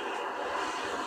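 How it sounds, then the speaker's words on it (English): A helicopter in the Quantum Break video game gives off a continuous broadband engine roar, steady and fairly loud throughout with no voices. "Better get inside before the chopper spots me."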